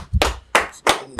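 Four sharp hand claps in a loose, uneven rhythm, close and loud, each a crisp slap with brief silence between.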